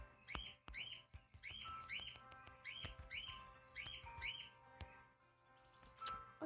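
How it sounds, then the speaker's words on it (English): Pet cockatiels in a home bird setup give repeated short, bright chirps and tweets in quick bursts, fairly close but modest in level, over faint clicks and a low background hum. "Then here's my annoying cockatiels."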